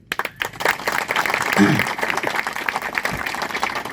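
Audience at a farmers' rally applauding, a burst of clapping from a crowd that swells and carries on at moderate distance, with voices mixed in.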